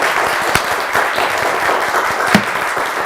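A studio audience on a Turkish game show applauds strongly, a continuous bed of clapping with a few sharper, louder claps standing out, steady and close without speech.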